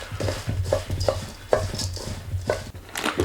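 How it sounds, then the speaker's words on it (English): Granola oat mixture being stirred briskly in a bowl by hand, with repeated soft scraping strokes and light knocks in a steady rhythm, close and moderately loud. "I'm going to stir that in straight away so it doesn't clump up and cause a goopy glob of oatmeal"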